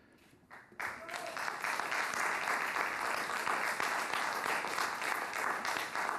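Applause at a council meeting starts after a moment of quiet and swells into steady, moderately distant clapping from the audience that continues to the end.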